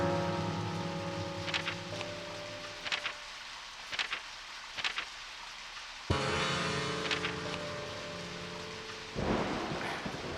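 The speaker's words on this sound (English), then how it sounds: "It said it was supposed to stop raining in the afternoon, and it has not stopped raining." Rain pours steadily in the Deadly Premonition video game, a constant hiss with rumbling thunder, under game music with tones and brief sharp accents.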